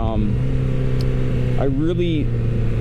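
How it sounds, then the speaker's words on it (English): Air-cooled 1100 cc inline-four engine of a 2013 Honda CB1100 motorcycle, a steady smooth hum that rises in pitch as it revs near the end, heard under continuous talking. "the smoothness of this inline 4, the 1100 motor in this"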